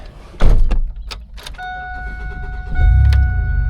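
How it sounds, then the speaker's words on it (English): A car being jump-started after its lead-acid battery failed, heard as door and key clatter, a chime tone, then a low engine rumble swelling near the end, close by with no talking. "to actually get to the store to get the real one, we've got to jumpstart this one again"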